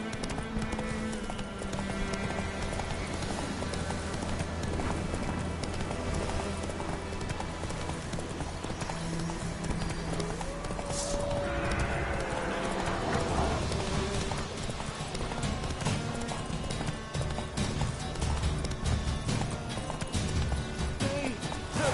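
Roach the horse gallops in The Witcher video game, a fast, steady clip-clop of hooves running throughout with a brief whinny partway through, set against game music.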